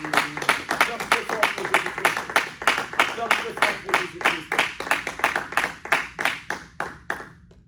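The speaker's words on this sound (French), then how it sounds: "Est-ce qu'on peut acclamer très fort? Acclame très fort." A church congregation claps and cheers loudly at a French-language evangelistic service, dense rhythmic applause filling the room for several seconds before gradually thinning out toward the end.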